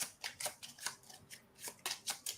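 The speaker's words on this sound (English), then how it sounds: "I have to shuffle." Playing cards shuffled for a tabletop card game, a quick series of crisp riffling bursts about twice a second, close and fairly faint, with no talking over them.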